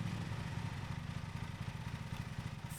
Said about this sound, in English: Hold X to start the engine